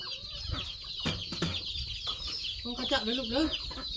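A chicken clucks close by in a string of short, choppy calls, with a rising burst near the end, while people talk in the background.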